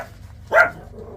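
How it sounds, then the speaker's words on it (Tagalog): A single short, sharp dog bark sounds indoors, close and loud, against a quiet room. "Sinaway ko lang yung aso ko ng gulo."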